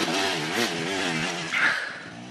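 An enduro motorcycle at a rally-raid race roars past close by, its engine revving and rising in pitch, then a quick throttle blip as it pulls away.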